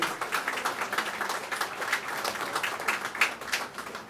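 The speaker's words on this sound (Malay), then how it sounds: "kita berikan tepukan paling gemuruh kepada panel kita hari ini" Audience applause for the panel at a religious forum, a steady patter of many hands clapping in a hall, moderately distant and even throughout with no voices.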